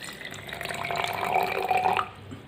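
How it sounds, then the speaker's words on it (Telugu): Water pours steadily into a container for about two seconds, a bright splashing stream that stops abruptly, with no voices. "వాటర్ తీసుకొని ఈ జార్లో పోయండి."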